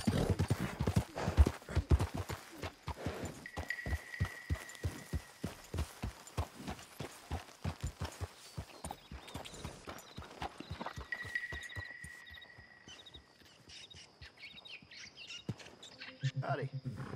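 Horse hooves clip-clopping at a steady walking rhythm in the Red Dead Redemption video game, close and distinct for most of the span before slowing, with bird chirps and a short stretch of speech near the end.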